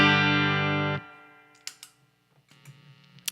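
A clean, unaffected electric guitar tone rings out for about a second as a bright sustained chord, then cuts off, followed by a few faint clicks and a quiet low hum.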